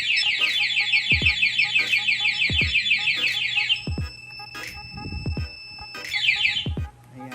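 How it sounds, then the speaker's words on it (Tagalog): Motorcycle anti-theft alarm on a Sniper 155, set off by pressing the remote lock button: a loud, close, rapid warbling electronic siren with steady tones and a few low thumps, cutting off midway, then short chirps returning near the end. "pindutin po natin itong lock button, automatic po yan, yung motor natin mag-a-alarm"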